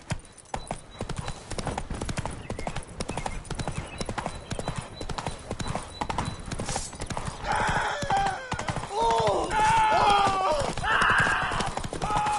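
A horse in The Witcher 3 clip-clops at a steady gallop, its rhythmic hoofbeats continuing throughout, with a whinny and game sound effects rising toward the end.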